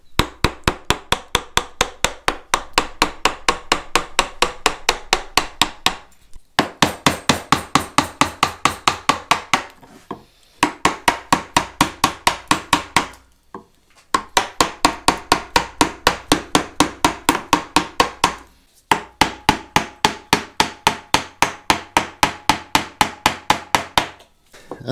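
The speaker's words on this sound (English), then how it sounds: "it's just a case of mallet, chisel and work that material out" Rapid, steady mallet blows on a chisel carving a wooden Stratocaster guitar neck, loud and close, coming in long runs of evenly spaced strikes with brief pauses between bursts.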